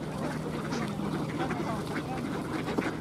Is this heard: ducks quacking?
yes